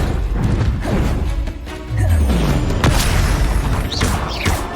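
Confringo blasting spells burst in Hogwarts Legacy, several loud, close explosive booms and cracks landing a second or so apart over dense, busy game noise.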